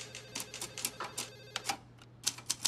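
A telephone rings repeatedly in a Turkish comedy scene, a series of bright electronic ring bursts in an uneven rhythm, close and clear over a low steady hum, with no talking.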